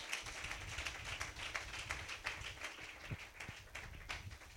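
A church congregation claps and cheers in praise of the Lord, a steady wash of many hands clapping at a moderate distance, fairly faint and continuous without talking.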